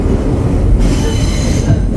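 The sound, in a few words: NYCT R9 subway car rolling on rails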